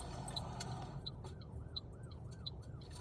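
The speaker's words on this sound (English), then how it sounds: "I hear sirens, they're coming for you." An ambulance siren wails faintly in the distance in Los Angeles, its pitch rising and falling repeatedly beneath a low rumble of traffic.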